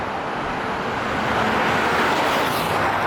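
A stock factory diesel pickup truck roars past with a loud, broad engine and road rush, the sound swelling steadily as it goes by.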